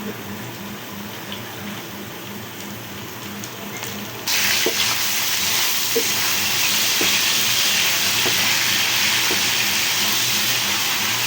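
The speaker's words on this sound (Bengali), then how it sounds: "হালকা ভাজা হয়ে গেছে এখন এর ভিতরে আমি মশলাগুলো দিয়ে দিচ্ছি" Spices added to onions frying in a pan hiss and sizzle steadily, the sizzle jumping noticeably louder partway through and then holding as a constant close hiss.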